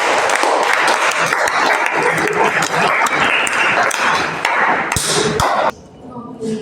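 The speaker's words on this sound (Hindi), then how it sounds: "आप लोग ताली देना भूल गए" Students clapping together in a classroom, a loud, dense burst of many hands that keeps going for several seconds, with a couple of sharp louder smacks near the end before it abruptly drops off.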